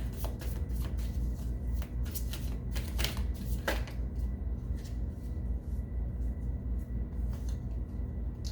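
Tarot cards shuffled by hand in a run of crisp, repeated riffling bursts, close and steady over a low background hum, with no talking.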